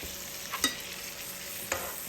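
Steak frying in butter in a pan gives off a steady, close sizzle with two brief, sharper spatters standing out. No one speaks.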